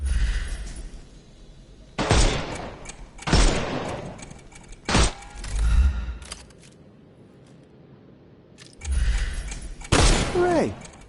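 Gunshots in a Sherlock Holmes Chapter One combat scene, fired to shoot the armour off enemies; several loud separate blasts spaced a second or more apart, with quiet stretches and brief game voices between them.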